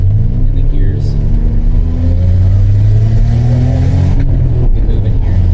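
A 1993 Suzuki Cappuccino with a cracked exhaust header rumbles loudly from inside the cabin as its small engine revs and the pitch climbs and drops through gear changes while downshifting.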